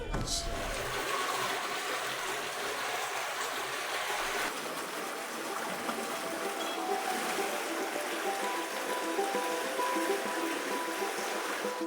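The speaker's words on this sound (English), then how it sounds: "the sound of water trickling through the cobblestone streets" Continuous rushing, trickling water running through cobblestone streets in Peru's Sacred Valley, close and steady, with a faint voice murmuring briefly in the background.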